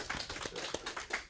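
A church congregation claps during Sunday worship: a brief, faint burst of quick, uneven handclaps heard from a distance.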